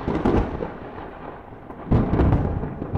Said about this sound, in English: There's a sound effect. There's a lightning bolt.